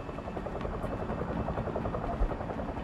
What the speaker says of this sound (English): That helicopter going by outside the blind with the lights